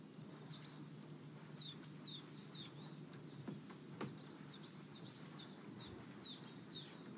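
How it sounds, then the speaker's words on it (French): Small birds sing and chirp in a quiet natural setting, repeated bright high calls over a soft background hush, fairly faint and with no talking. "Il y a des oiseaux."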